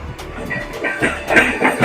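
A Mumbai Western Railway slow local train rumbles past nearby Churchgate station with rhythmic clattering wheels and a steady mechanical roar, loud and continuous throughout.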